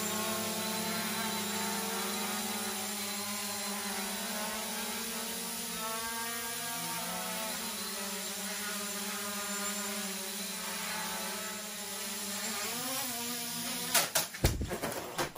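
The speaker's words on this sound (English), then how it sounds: "The drone is also quite durable, powerful" A Snaptain SP700 drone hovers nearby with a steady, high-pitched propeller buzz that holds for most of the stretch before ending in a few loud handling knocks and rustles.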